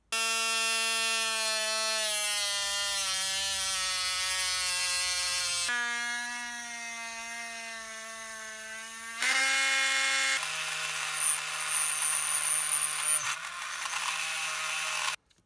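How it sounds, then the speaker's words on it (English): A high-speed rotary tool cuts wire cutouts into a cheap RC boat hull, a loud, close, whining buzz whose pitch shifts and drops as it bites into the material, without talk. "Let's get the high-speed tool and do those cuts now."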